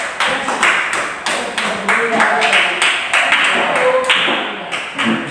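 Classroom audience of students applauding to welcome a presenting group in a civics lesson: dense, steady clapping from many hands, fairly close and loud, running throughout with faint voices mixed underneath.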